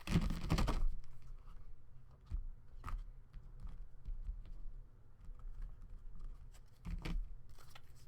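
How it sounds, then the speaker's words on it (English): A burst of cards riffling together at the start, followed by scattered light papery taps and flicks, close by in a quiet room. "One more shuffle."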